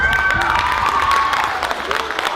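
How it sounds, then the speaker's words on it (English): A room of high school students at a mock presidential debate breaks into brief, close applause, a dense wash of clapping with a few voices mixed in. "Give Juan a big round of applause."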